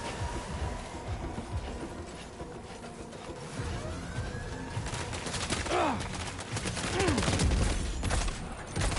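Gunfire in the video game Death Stranding 2, a rapid fusillade of shots over a rumbling, busy background, with several sharp bursts and whizzing sounds midway, fairly loud and continuous.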